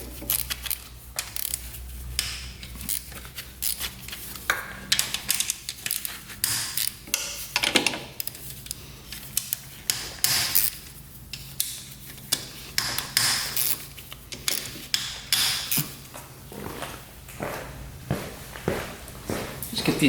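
Tools work steadily on bolts of an old auction motorcycle that sat for 27 years, making clanks, ratchet clicks, creaks and metallic taps in an irregular, close stream with faint background hum.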